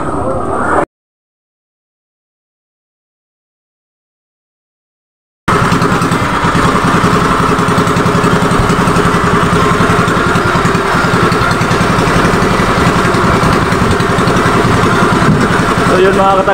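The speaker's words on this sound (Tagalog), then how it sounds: "So, andar muna tayo sa sa ating makina." After a brief sound and a few seconds of silence, a fishing boat's engine starts and keeps running at a loud, steady idle, close to the listener.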